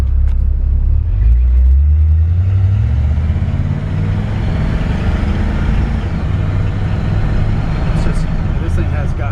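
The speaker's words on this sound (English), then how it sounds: "I touch the key, she fires right up." A 1951 Chevrolet 3100 pickup's engine rumbles loudly from inside the cab, revving up low at first and then droning steadily while the truck drives along.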